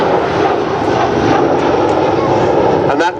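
An Avro Vulcan XH558 bomber flies past at the Duxford airshow with a loud, sustained jet-engine roar that stays close and powerful throughout, while an announcer talks over it.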